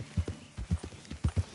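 Horse hooves clip-clopping in a PS4 video game, a quick uneven series of about eight close hoof strikes at a steady walking pace, with no talk over them.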